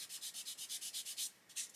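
A fine sanding stick rubs gently around the edge of a painted mask, making quiet, rapid back-and-forth scratchy strokes in a steady rhythm, about a dozen in under two seconds, with no talking.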